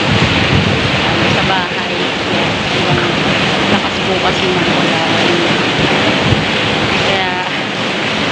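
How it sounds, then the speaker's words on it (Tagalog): Heavy rain pours down in a steady, dense roar with wind buffeting the microphone throughout, while someone talks over it. "Sobrang lakas po ng ulan."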